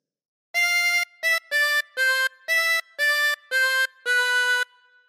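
Harmonica playing a phrase of All Through the Night, eight clear sustained notes with short gaps, steady and close, alone without talk.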